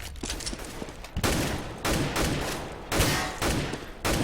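Rapid bursts of auto sniper fire in a CS:GO match, loud and close, several volleys about a second apart with sharp attacks and dense noisy decay, no talk over them.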